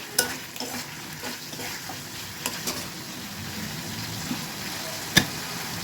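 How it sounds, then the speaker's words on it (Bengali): Taro lentil dumplings (kochur bori) fry in a pan with a steady close sizzle, broken by a few sharp clicks and scrapes of a utensil stirring against the pan. "এটা হচ্ছে কচুর বড়ি, কচুর বড়ি, এই জন্য একটু জালটা বেশি সময় লাগে, সেজন্য আলাদা করে আমি কষিয়ে নিচ্ছি"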